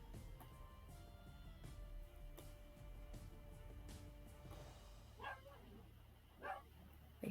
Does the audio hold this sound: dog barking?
yes